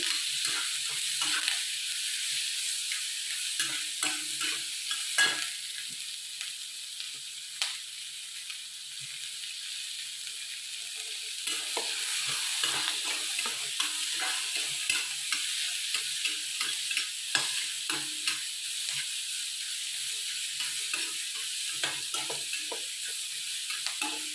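Vegetables sautéed in a pan for a homestyle sambar, a steady broad sizzle running throughout with frequent scraping and clinking stirs, close and fairly loud with no talking.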